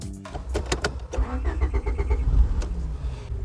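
Honda Accord IV engine starting: a short cranking burst followed by the engine catching and settling into a steady, fairly loud idle nearby.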